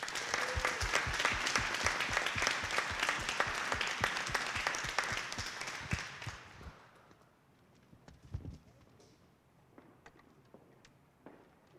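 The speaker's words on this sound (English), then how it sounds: "if we could give one more round of applause to all the recipients" Sustained applause from an audience honoring award recipients at a school board meeting, loud and dense for about six seconds before fading to scattered claps and quiet room noise.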